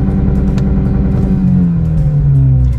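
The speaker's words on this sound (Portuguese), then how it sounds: "Escuta agora o barulho do motor com o carro parado." A 2024 RAM Rampage pickup truck idles with a throaty sport-exhaust burble while parked, then revs, its pitch dropping and rising again, loud and close.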